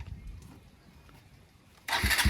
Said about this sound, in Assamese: এতিয়া মোৰ বাইকটো বোলে একবাৰ চলাই চাব বোলে ভাইটিয়ে